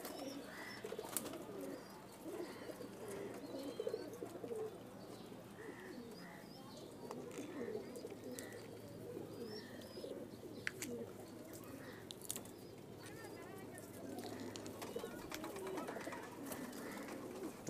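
Pigeons coo repeatedly inside a loft while being fed, soft rounded calls recurring through a steady low background, some faint chirps and occasional knocks, fairly quiet and close throughout.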